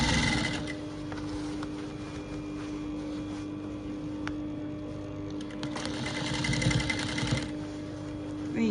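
Sewing machine runs steadily as it stitches a crinoline ruffle onto a baby girl's dress, a continuous whirring hum with small clicks and handling noises, slightly louder near the end.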